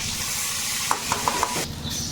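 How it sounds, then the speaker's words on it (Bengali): Dried red chilies, bay leaf and panch phoron spluttering in hot oil in a Sundarban home kitchen: a steady close sizzle with four sharp little pops early on, then a brief swell of hiss, no talking. "তেলে একটু শুকনো লঙ্কা তেজপাতা পাঁচফোড়ন দেবো"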